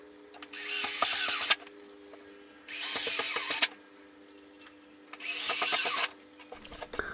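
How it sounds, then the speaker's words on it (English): An oscillating tool cutting a plastic electronics enclosure for a mini CNC lathe controller, three loud buzzing bursts of about a second each separated by quieter gaps, close up with no talk. "I'm using an oscillating tool,"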